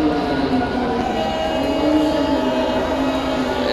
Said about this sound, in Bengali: শব্দ পাচ্ছি ট্রেনের,